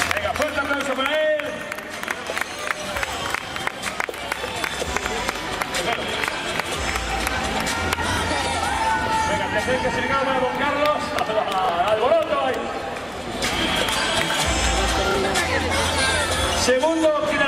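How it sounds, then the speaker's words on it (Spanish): Steady outdoor applause from a crowd honoring a finisher at a cross-country race prize-giving in Falces, sustained clapping under chatter and voices, swelling again near the end. "Venga, fuerte aplauso para él"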